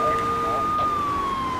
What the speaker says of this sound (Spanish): vamos a ir con la sirena, llamando la atención